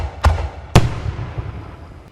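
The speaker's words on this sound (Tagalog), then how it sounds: "Ikaduha nga palopok, kanyon nga kawayan." Two sharp, booming blasts from a bamboo cannon about half a second apart, the second louder, each followed by a rumbling decay that fades into the background.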